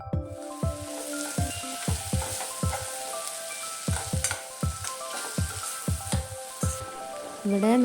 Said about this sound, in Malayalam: നമുക്കിനി ഇതിലേക്ക് ഒരു 2 തക്കാളി അരിഞ്ഞതും കൂടി ചേർത്ത് കൊടുക്കാം.